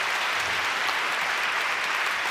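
Steady, dense applause from a ceremony audience honoring laureates, a continuous even wash of many hands clapping at constant loudness.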